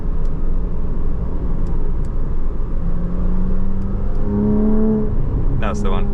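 A car engine with its exhaust valves switched open idles with a deep rumble, then rises into a rev with climbing tones before a sharp higher burst near the end.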